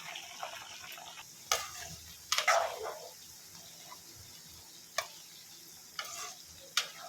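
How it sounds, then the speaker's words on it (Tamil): Homemade herbal hair oil with crushed gooseberries, leaves and flowers boiling in a pan, a faint steady bubbling and sizzle with a few sharp clicks and stirring scrapes, no voices. "எண்ணெய் நல்லா கொதிக்குது."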